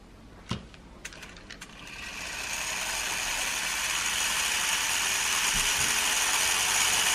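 A Lego robotics gear train, built to explore gear ratios, starts with a few sharp clicks and ratchety ticks, then winds up into a loud, steady high-speed whirring and grinding that keeps building, with no talk.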